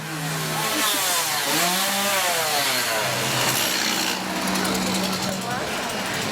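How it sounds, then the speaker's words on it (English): Loud chainsaw engines, run without chains at a Thorpe Park Fright Nights Halloween event, rev and drone continuously, their pitch rising and falling, with voices and shouting mixed in. "the use of the chainsaws without the chains is just genius"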